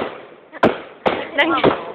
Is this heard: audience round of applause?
no